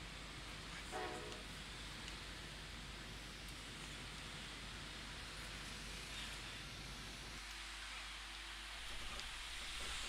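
ALP-45 DP locomotive on the North Jersey Coast Line departing, a steady low rumble of the train with a faint horn tone sounding briefly near the start and again later, heard from inside at a distance.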